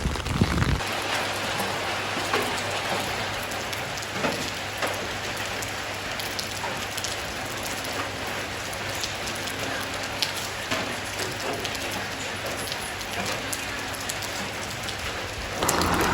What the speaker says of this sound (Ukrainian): і дощик пропустився який